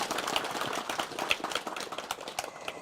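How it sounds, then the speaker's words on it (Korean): Crowd applause at a temple Buddha's Birthday ceremony for a monk, many hands clapping in a continuous, moderately distant patter with individual sharp claps standing out. "우리 중현스님께 다시 한번 큰 박수 부탁드리겠습니다"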